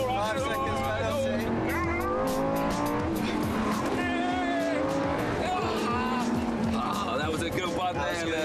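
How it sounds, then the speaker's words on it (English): A car launches hard from a standing start on a track, engine revving loudly with tire squeal, while a voice talks over it throughout. "wait for the flag to drop, and launch"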